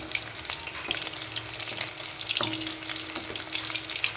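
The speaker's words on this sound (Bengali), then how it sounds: "চিকেন এখানে ম্যারিনেট করে রাখা হয়েছে, আর ওদিকে ভাজা হচ্ছে।" Marinated chicken frying in hot oil, a dense continuous sizzle and crackle that stays close and fairly loud throughout, with a few faint clinks; no one speaks.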